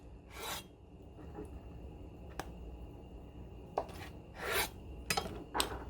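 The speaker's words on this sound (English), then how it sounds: "Take a knife. We're going to cut it. Into fours." Several short scraping slices ring out against a quiet background, a knife cutting a tomato into quarters on a board, spaced irregularly and growing busier toward the end.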